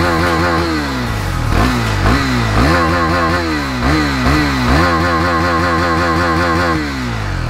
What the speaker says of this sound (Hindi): देखो आप लोगों को साउंड सुनाता हूँ गाइस, 390 का ये नॉर्मल, तो थ्रोटल करता